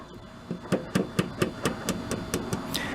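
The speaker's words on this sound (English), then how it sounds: "I'm gonna try tapping it with the hammer a little bit" A hammer taps repeatedly on a Yard Machines mower part during an oil seal replacement, about a dozen sharp metallic knocks in a fairly even rhythm, close and clear with no speech.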